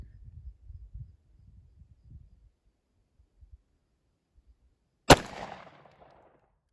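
A single loud, close 10mm pistol shot with a 180 grain XTP load cracks sharply and echoes briefly, following a few seconds of faint low rumbling and scattered thumps.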